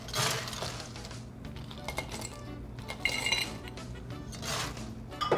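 A drinks glass is handled behind a bar, with repeated clinks and chinks of glass and light rattling as it is moved and set aside, fairly close and with no talk over it.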